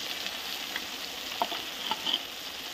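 Boiled potatoes fry in a pan as cumin, ginger, chilli, salt and turmeric go in, giving a soft, steady sizzle broken by a few light stirring scrapes.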